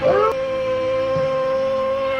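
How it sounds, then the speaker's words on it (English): A dog howls along to a Christmas song, letting out a long, steady, sustained howl that holds one pitch, following a brief musical tone at the start. "Little pitchy dog."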